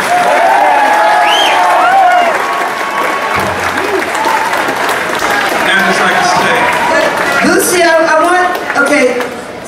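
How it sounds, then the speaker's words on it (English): Audience applause at a live concert: a loud, sustained crowd of clapping with scattered cheers and whoops, steady throughout and tapering slightly near the end. "Let's give her a nice round of applause."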